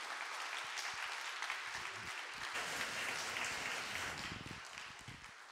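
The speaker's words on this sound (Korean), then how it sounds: "나오실 때 박수로 맞아주시면 감사하겠습니다" A church congregation at a Sunday worship service applauds to welcome a young pastor to the stage. The clapping is dense and sustained, holds steady throughout and fades slightly near the end, with no voices.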